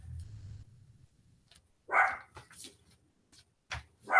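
A pet dog barking indoors during a home lesson: a few short, sharp barks and yips spaced irregularly, moderately close, separated by quiet gaps.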